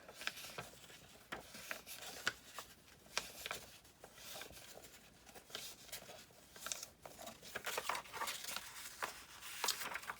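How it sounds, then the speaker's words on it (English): Scored paper being folded by hand along its crease lines for a Bible journaling craft, producing soft, close crinkling, rubbing and creasing noises in irregular bursts, with no speech. "I'm just going to fold on all of my score marks here really quick"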